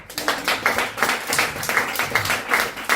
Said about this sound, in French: C'est marrant parce que ces gens d'applaudissent, vous n'applaudissez pas pareil.